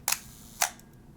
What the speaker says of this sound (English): If I press the shutter,